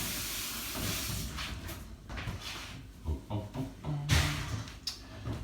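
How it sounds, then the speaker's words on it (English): Tap water hisses and splashes steadily while hands are washed in a kitchen during cooking, with a few soft clunks and bumps at the sink. "Just wash my hands quickly."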